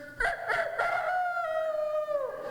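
A person imitates a rooster's cock-a-doodle-doo with a single long, loud, drawn-out crow close by, preceded by a few short rising bursts and then sliding down and fading out.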